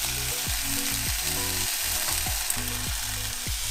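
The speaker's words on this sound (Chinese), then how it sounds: "猪肉的四边也让它煎一下，尤其是这个猪皮啊" Pork belly pan-fries in a hot pan, its skin and sides pressed down, giving a steady loud sizzle broken by repeated scraping strokes as the meat is pushed around.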